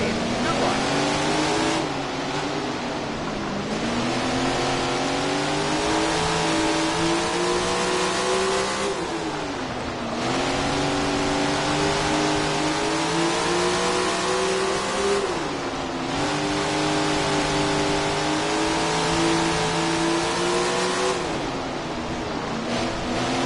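Several 410 sprint car engines rev loudly near a race start, their pitch rising and falling in repeated waves, with a steady dense roar throughout and a few brief dips.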